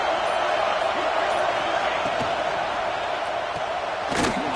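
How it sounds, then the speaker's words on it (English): A stadium crowd roars steadily in a college football video game, a constant loud wall of cheering near the goal line with a brief swell near the end. "And the crowd coming to life here, trying to help this defense down in the red zone."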